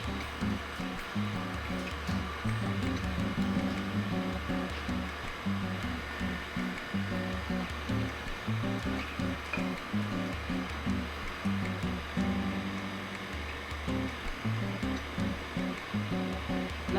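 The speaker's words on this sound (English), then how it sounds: "we're getting ready to put the ice cream or the batter into the custard into the ice cream maker" An ice cream maker churning butter pecan custard, a steady mechanical whir with a faint repeating rhythmic pulse, continuous and fairly quiet, with no talking.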